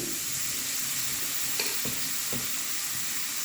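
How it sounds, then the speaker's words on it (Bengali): Fenugreek leaves dropped into a hot frying pan with fried potato, black cumin and dried chillies, giving a soft continuous sizzle with a few brief stirring knocks partway through. "এবারে মেথির শাকটা দিয়ে দিচ্ছি"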